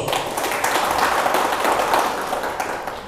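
Audience applause at the inauguration of a regional choir development association board in Sorong, Papua: steady, dense clapping from a crowd, filling the whole moment at an even loudness without a clear break.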